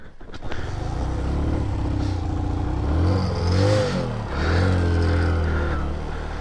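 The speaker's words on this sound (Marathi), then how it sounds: "गाडी चालू व्हायला त्रास देते." A vehicle engine on a road trip in rainy Ladakh catches after a brief rough start and then revs up and down in loud, close surges, with no talking.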